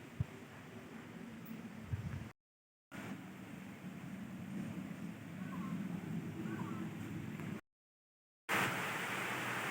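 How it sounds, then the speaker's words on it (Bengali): Heavy rain pouring outside, heard from a veranda as a soft, steady broadband wash that continues without letup, broken only by two brief moments of total silence. "আর এখন অঝোরে বৃষ্টি হচ্ছে"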